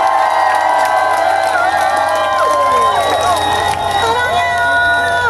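A concert crowd at a performance at the Pyeongtaek Lake night festival cheers loudly for the performer's fan club. Shouts and high-pitched screams run continuously over a bed of crowd noise and babble.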